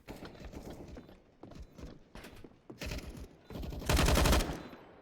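Gunfire from a Counter-Strike match on the Train map crackles in rapid bursts, starting sparse and building to a dense, loud volley of automatic fire near the end.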